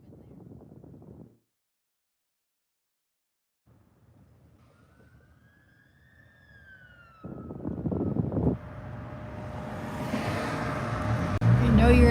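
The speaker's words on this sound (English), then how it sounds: "You know you're in a city when you hear sirens." Emergency vehicle sirens wail in a city and rise gradually from faint to loud. Traffic noise grows underneath, with brief speech at the start.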